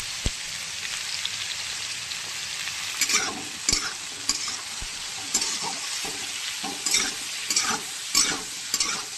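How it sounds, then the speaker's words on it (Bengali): Vegetables with turmeric powder fry in a pan, giving a constant bright sizzle broken by repeated scraping stirs and clatters of a spatula, close and fairly loud, with no talking. "আনাজগুলোকে আমি ভালো করে ভেজে নেবো।"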